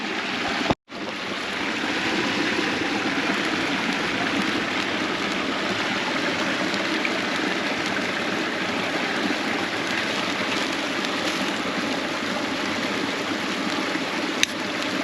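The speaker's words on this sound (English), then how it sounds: "to be listening to the sounds by the river" A river flows past an outdoor spot in a continuous rushing wash of water, broad and steady, with a brief dropout near the start and a single faint click later on.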